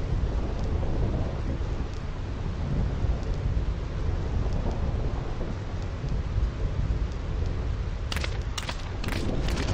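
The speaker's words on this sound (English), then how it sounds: "This storm never stops." A steady roar of heavy rain with deep rolling thunder fills the Thunder Plains in Final Fantasy X, a dense continuous storm bed that stays loud throughout, with sharper crackles near the end.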